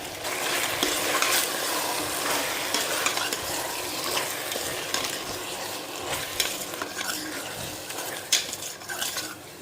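Tomato and coriander puree frying in a chicken curry pan while being stirred, with a steady loud sizzle and scraping spoon and utensil clatter throughout, no voices.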